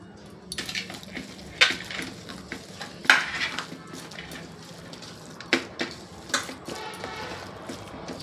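A spoon stirs a vegetarian pointed gourd mixture with mustard oil in a pan, giving a steady close scraping and rustling bed broken by several sharp metallic clanks of utensil against pan.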